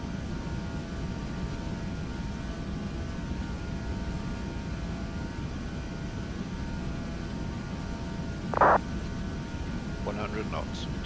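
Aircraft engines at full takeoff power in a flight sim game, a steady broad roar filling the background while voices talk over it.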